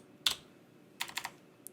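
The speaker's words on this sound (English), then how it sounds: "So I'm just typing on the keyboard." Keystrokes on a computer keyboard, close and crisp: one sharp click, a short run of three or four quick taps about a second later, then a single light tap, with no talking.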